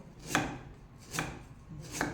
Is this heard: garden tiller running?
no